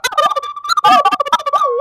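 A triple ocarina chirps and warbles in quick, beeping bursts that imitate a robot droid, playing several tones at once in a rapid, jittery pattern up close.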